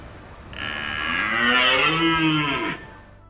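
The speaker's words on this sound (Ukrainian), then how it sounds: "Це олень." A deer calls once with a single drawn-out, low bellowing moan that swells and then fades, loud and close with nothing else heard.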